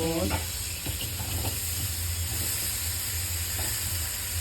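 Lotus root slices hit a hot wok and stir-fry with a steady, close sizzle and hiss. Occasional scraping stir noises rise briefly over it, and a low hum stays under the frying throughout.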